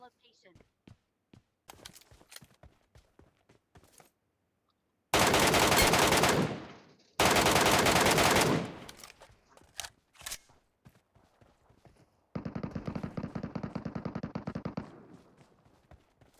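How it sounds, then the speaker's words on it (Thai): Gunfire in the shooter Metro Royale: scattered single shots, then two long loud bursts of automatic fire, a pause, and a quieter sustained burst, with people talking between the volleys. "ยิงกันอยู่อ่ะ"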